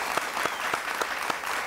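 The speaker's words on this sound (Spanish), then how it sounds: "Un aplauso para ella," A studio audience at a televised interview applauds a guest, an even wash of clapping with a few sharper louder claps standing out at regular beats.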